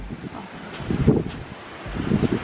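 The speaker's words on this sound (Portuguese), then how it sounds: "Agora tá com vento, bastante vento." Strong wind buffets the microphone on a beach house balcony overlooking the sea, coming in rough gusts that swell and fade with no talk.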